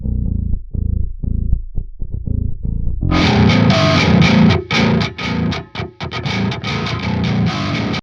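Compressed djent bass guitar driven into an amp, first a clean, low, chugging palm-muted riff, then a thick, gritty distorted tone with tight, rhythmic stops, loud and close.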